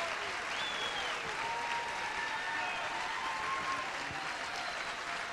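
Applause from an audience in an auditorium after a dance performance, a soft, even wash of clapping heard at a distance, with faint tonal sounds drifting over it.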